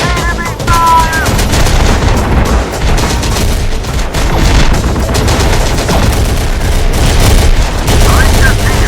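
Gunfire in the Terminator Dark Fate Defiance video game: loud, dense bursts of automatic and rapid shots crackling continuously alongside booming impacts, with voices calling out over the battle.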